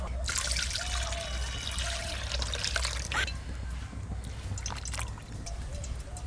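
Water trickles and splashes into flour dough as it is kneaded by hand, with wet squelching and dribbling close by, and a voice talking intermittently over it.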